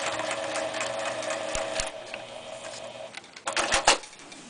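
A plain domestic sewing machine without a stitch regulator runs at a steady pace, stitching along a ruler with a hexi foot, its rapid even whir continuing for about three seconds before a few clicks and knocks, with no talking.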